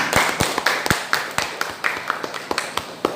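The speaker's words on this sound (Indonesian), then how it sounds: "Tepuk tangan" Students in a maths classroom clapping their hands: a small group giving sharp, irregular claps at a quick, uneven rhythm, close and fairly loud, with no talking.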